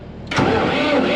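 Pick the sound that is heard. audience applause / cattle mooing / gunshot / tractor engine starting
tractor engine starting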